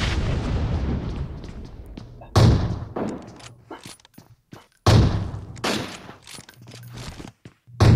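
Grenade explosions and gunfire in the video game PUBG: two heavy booming blasts with rumbling tails, then scattered shots and thuds, loud and close with quieter gaps between.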